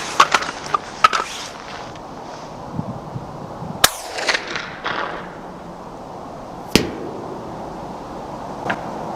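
Several sharp .22LR rifle shots crack nearby at uneven intervals, fired at a target 670 yards away, with clicks and handling noise around them. Any distant bullet impact on wood is not distinct.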